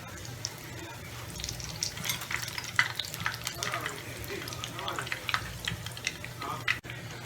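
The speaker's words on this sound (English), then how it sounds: "I'm about to fry this bread. Fry it up just like a pancake." Cornbread batter frying in a pan like a pancake gives a steady sizzle with scattered crackles and some clinks, close and moderately loud, with no talk.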